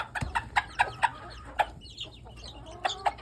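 Backyard chickens cluck in a quick series of short, bright calls, several close together and a pair more near the end, fairly near and alone with no talking.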